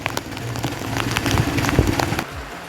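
Steady monsoon rain patters down in the Konkan countryside near streams and waterfalls, with scattered drips and splashes, a constant wash of noise close by.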